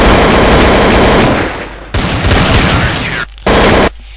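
AK-47 gunfire sound effect, loud and close: dense bursts of rapid automatic shots, a long burst, then a shorter one after a brief gap, and a final quick burst.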